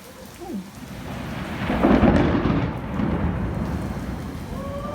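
A thunderstorm at an outdoor garden festival in 2021: a deep rolling thunder rumble swells and peaks midway, then eases off, while steady rain patters on surfaces throughout.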